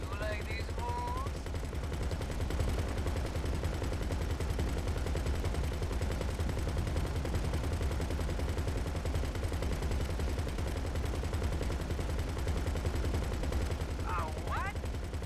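Video game gunfire aimed at incoming missiles: continuous rapid machine-gun bursts forming a dense, unbroken rattle, with faint whistling tones at the start and end.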